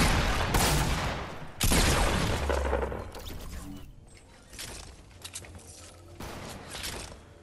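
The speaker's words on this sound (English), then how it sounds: "I don't know if that guy's shooting at us." Gunfire in a Fortnite match, several loud broadband shots and bursts in the first few seconds, then quieter scattered distant shots, with game mechanisms and a voice talking over part of it.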